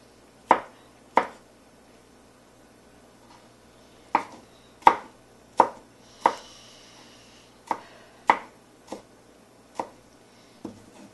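A knife chops food finely on a board while making keftedes, about a dozen sharp, isolated thuds in irregular clusters separated by quiet pauses, close and clear.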